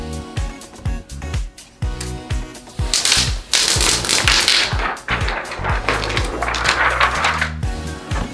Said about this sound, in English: Let's peel the plastic off.